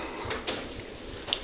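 A socket drawer on a Snap-on 68-inch EPIQ tool box slides open with a short, quiet rolling glide and a faint metallic click at the end, heard close and alone.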